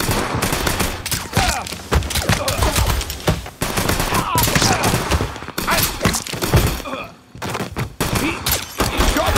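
Gunfire in the video game Mafia 3, rapid loud bursts of automatic shots and scattered single cracks in a chaotic firefight, with brief voices mixed in.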